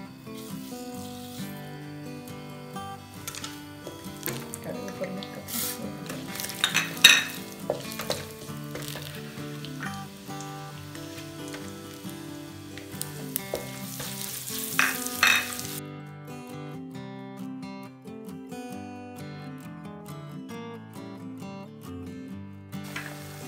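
Mustard seeds crackle and sputter continuously in hot oil, with louder bursts of popping and sizzling in the middle, close up and without talk, while tempering a chili chutney.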